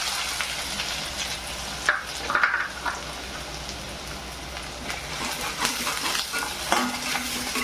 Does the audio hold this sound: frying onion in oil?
yes